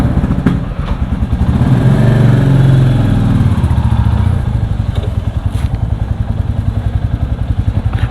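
A 2023 Royal Enfield Classic 350 motorcycle engine runs steadily up close, a low thumping rumble that swells briefly, then settles into an even, pulsing idle-like beat with faint clatter.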